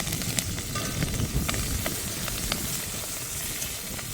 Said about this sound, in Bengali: এবার কাঁকড়াতে ঝালের মশলাটা, লঙ্কা কাটা, পেঁয়াজ কুচি দিয়ে দেবো তেলে